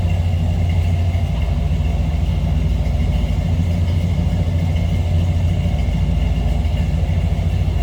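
A 1990 Chevrolet 1500 454 SS V8 runs steadily, heard from behind the truck at the exhaust, with a constant low rumble and idle that holds evenly and alone throughout.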